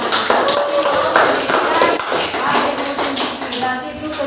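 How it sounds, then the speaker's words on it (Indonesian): A group claps hands briefly in a classroom setting at an Indonesian university session, a few seconds of uneven, close clapping mixed with taps and shuffling. "Oke, tepuk tangan."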